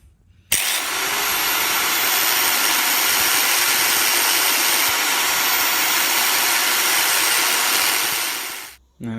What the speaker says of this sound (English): So here's a tool I haven't been able to play with for a while, my die grinder.